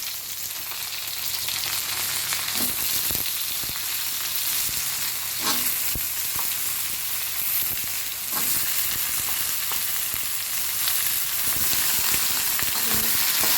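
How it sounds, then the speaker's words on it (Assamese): Crushed garlic sizzling and frying in a hot pan for an Assamese fish and bottle gourd curry, a steady close hiss running throughout with occasional stirring scrapes and pops. "আৰু এতিয়া মই এইখিনি ইয়াতে ভাজি দিম।"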